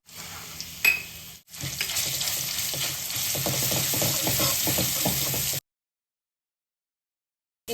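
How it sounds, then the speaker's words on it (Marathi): Cumin and ginger-garlic paste sauté in oil in a wok for a mushroom masala, giving a loud continuous sizzle with stirring scrapes, then cutting abruptly to silence near the end. "एक मिनट परतूया"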